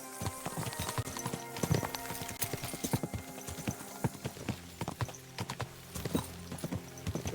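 Horse hooves clip-clopping on a quiet road in the video game Kingdom Come: Deliverance II, a steady close rhythm of hoofbeats with a brief whinny-like moment, no talking.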